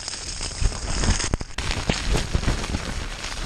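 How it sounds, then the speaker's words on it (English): Torrential rain from Storm Ciara pounds on a Vango Storm Shelter 400, a dense, loud, close crackling patter that continues without pause, with no voices. "But at least I'm out of that rain."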